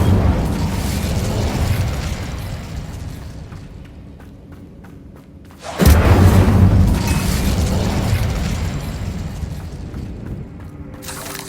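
Incendio fire spell cast in Hogwarts Legacy, a rumbling mechanical background that erupts into a sudden loud fiery burst and roaring blast midway, then tapers off while the rumble continues.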